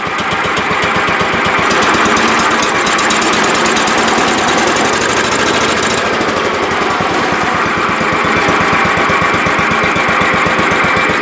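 The engine of a John Deere 212 lawn tractor idles after a carburetor cleaning, with a loud, close, steady rapid chugging pulse throughout that holds an even rhythm without faltering.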